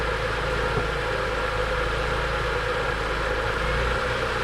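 A BMW E46 M3 engine idles steadily with a constant low rumble and even hum, close and unbroken for the whole stretch, with no talking.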